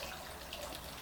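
Water trickling and running at a small outdoor altar in front of a house, a faint, steady flowing sound heard from a distance.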